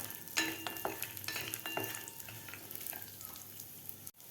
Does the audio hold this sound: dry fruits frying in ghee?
yes